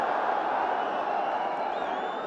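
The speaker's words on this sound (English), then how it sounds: "they are Liverpool supporters to the right as we look, giving warm applause to an old favourite" Liverpool supporters at a 1984/85 Canon League Division One match against Tottenham Hotspur give a warm round of applause, heard as a steady, even wash of crowd clapping and noise filling the stadium, with no voice over it.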